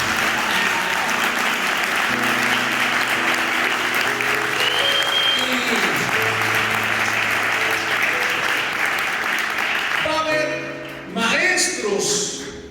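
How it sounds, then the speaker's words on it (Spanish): Church congregation clapping loudly and steadily together, with musical tones and voices mixed in beneath the applause before it thins out near the end. "Si lo cree, denle un aplauso, hermano."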